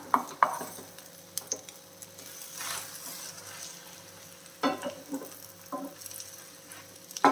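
An egg adai, a lentil-and-egg pancake, being flipped in a covered frying pan over low flame: soft sizzling under clinks and scrapes of a spatula on the pan, with a sharp clatter at the start and near the end.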